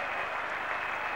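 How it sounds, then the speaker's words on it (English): Dense, continuous roar of a cricket crowd cheering noisily at the fall of Rodney Marsh's wicket during the 1981 Ashes Test series, a sustained wash of voices and applause with no break. "the crowd has gone noisily berserk"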